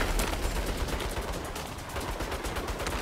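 Rapid turret gunfire in the video game Saints Row, a dense, loud stream of shots without pause for the whole stretch, harsh and close.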